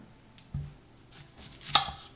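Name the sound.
cutting an onion with a knife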